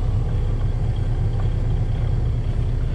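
A truck engine running in third gear, heard from inside the cab: a close, steady, low rumble at an even level all the way through, with no one speaking.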